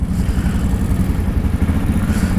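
An off-road vehicle with its belt plug removed and a leaking belt box drones steadily at a loud, even engine note throughout, close up, with no talk.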